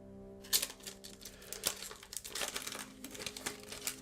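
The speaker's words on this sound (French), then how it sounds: "On va ouvrir ce paquet d'abord." A Pokémon card booster pack torn open close up: sharp crinkling foil and ripping bursts in quick irregular spurts over a quiet background, with no talk.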